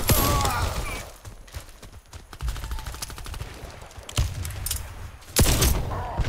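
Rapid bursts of gunfire from the console shooter Warface, fired while the player slides, crack out in several loud clusters across the stretch with dense metallic clatter between them.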